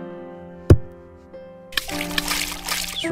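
A golf ball lands with one sharp splash in a puddle in Golf Story, then a soft second drip and a longer burst of trickling, splattering water over light game music.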